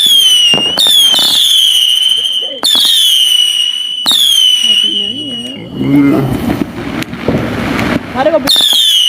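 New Year's Eve fireworks go off close by: loud repeated bangs and crackles, with rising whistles. People talk and exclaim in the middle stretch.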